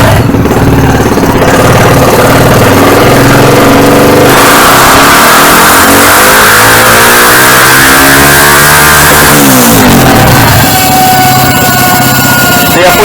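An engine fitted with an Athlon M250 module revs hard in fourth gear under load, with a loud, sustained, rising and falling roar that sweeps up through the revs and then drops back toward idle near the end.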